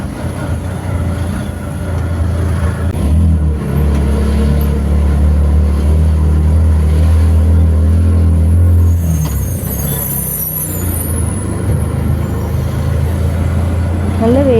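An auto rickshaw engine drones steadily and loudly while riding along the road from Bank Road to Kainatty, with a constant low rumble and rattle throughout and no break.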